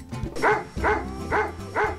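A two-year-old Labrador barks four times at an even pace, each woof loud, close and full, with short breaths between and no one talking.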